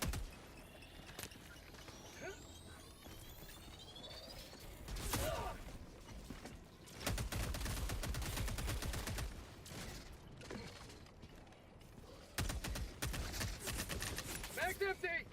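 Gunfire in the Helldivers 2 video game comes in quiet, scattered bursts and rattling volleys, mixed with mechanical clicks and creaks, and several denser flurries of shots arrive later on.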